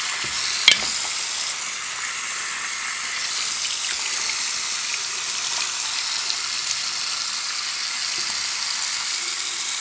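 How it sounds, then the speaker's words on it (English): Steady running water rinses cleaning product off a bathroom surface, a continuous close hiss and splash with one brief knock near the start and no voices. "Now we're just going to get all of the cleaner rinsed off of the surface."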